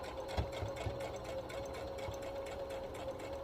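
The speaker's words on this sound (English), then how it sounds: "So we're going to forward stitch first, of course, and then you're going to back stitch, and you're going to continue all the way around." A sewing machine stitches along a kitchen towel, running forward and back with a steady rapid mechanical whir and a constant motor hum, close and continuous with a few heavier thumps near the start.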